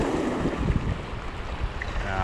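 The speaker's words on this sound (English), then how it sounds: "The wind is too strong here." Strong wind buffets the microphone on South Pier in Durban, a steady broadband roar with low gusting rumbles and surf noise running through the whole stretch.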